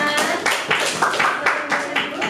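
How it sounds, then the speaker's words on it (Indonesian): A classroom audience claps for a student group's presentation, uneven close hand claps in short bunched pulses over a couple of seconds, with faint voices underneath. "Tepuk tangan dulu dari penampilan kelompok 5."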